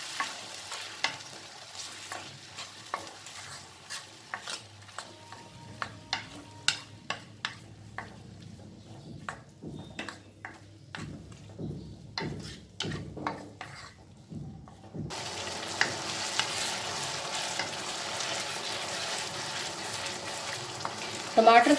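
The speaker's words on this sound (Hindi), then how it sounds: "हुण इहनूं असीं हौली हौली भुनना है, मीडियम जिहे सेक के उत्ते भुनदे रहना है" Green chilies and tomatoes sautéing in a pan over medium heat: a steady sizzle with a run of quick spoon scrapes and taps against the metal, then a louder, denser frying hiss that takes over near the end.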